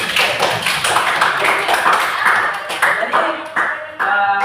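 A classroom of students clapping hands together, several loud quick bursts of claps in rapid succession close by, with a teacher briefly speaking over them.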